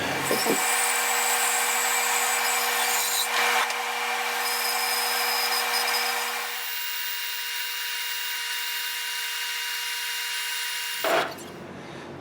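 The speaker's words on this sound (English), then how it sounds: "now I'm going to cut the majority of the wood off on the bandsaw." Bandsaw cutting a wooden guitar body blank, a steady high whine with tonal hum running for about eleven seconds before the blade winds down, loud and close with no talk.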